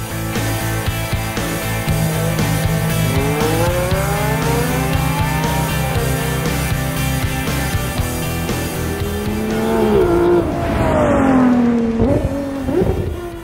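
A V12 car engine revs hard nearby, its pitch sweeping up through repeated rises, then climbing again to a strained peak before easing off.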